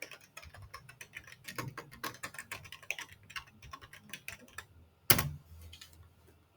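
A computer keyboard is tapped in a quick, irregular run of soft close keystrokes while a password is entered, ending in one sharper louder key press near the end.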